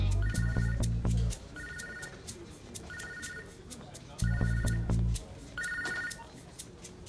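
In a Hindi film scene, a telephone rings in repeated double bursts, fairly close, with a low hum and a voice briefly audible under the first and last rings.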